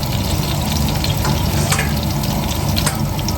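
Garlic infuses in hot oil for spaghetti aglio e olio, a steady close sizzle and crackle with a few brief stirring clinks, no talking.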